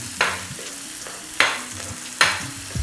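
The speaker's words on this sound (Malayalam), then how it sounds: "ആ 1 സവാള അതിലോട്ടിട്ട് കൊടുക്കാം." Sliced onion frying in a hot pan for Kerala crab thoran, a soft continuous sizzle broken by three sharp scraping stirs, close and alone without talk.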